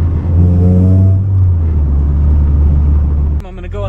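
A car with a K20/K24 engine and an RBC intake manifold accelerates up to road speed, its engine note rising loud and close in a steady drone before easing off near the end, heard from inside the car.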